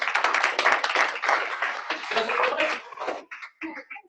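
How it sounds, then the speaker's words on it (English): Applause at an office team meeting, a burst of many hands clapping that fills the room for about three seconds, then thins into a few scattered claps before fading. "let's give Amber a big round of applause."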